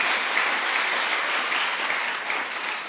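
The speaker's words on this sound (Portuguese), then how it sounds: "dê um aplauso a Jesus nessa tarde" A church congregation applauds during a Sunday service, sustained dense clapping from many hands at a steady loud level, tapering slightly at the end.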